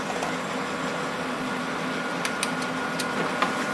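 A Brother DCP-L2640dw laser printer runs at work, a steady mechanical whir and hum with a few faint clicks near the end, close by and without talk.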